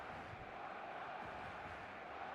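A stadium crowd in eFootball makes a faint, steady roar, an even wash of distant massed voices with no distinct calls standing out.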